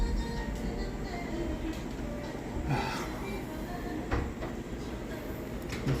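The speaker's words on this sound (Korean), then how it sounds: "여기 지하철 소리가 엄청나네." Steady rumbling roar of a subway train at Seoul's City Hall station, broad and loud, with clanks and squeals breaking through and a voice talking over the din.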